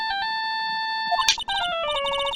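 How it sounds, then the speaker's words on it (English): A cell phone ringtone sounds in the Phoenix Wright video game, a steady electronic tone that changes to a faster, choppier melodic ringing pattern partway through, loud and alone with no talk. "All of a sudden, the phone began to ring."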